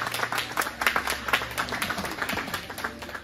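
A small group claps for a windshield fitter who has just finished installing a windshield at a competition. The crisp, uneven handclaps are fairly near but quiet and continue for a few seconds with little talk.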